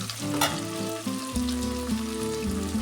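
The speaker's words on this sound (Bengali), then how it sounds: "এবার গ্যাসটা বাড়িয়ে দেবো, পেঁয়াজটাকে হালকা ভেজে নিতে হবে" Onions fry in oil in a pan on a gas stove, a steady soft sizzle heard beneath a sustained tonal background hum.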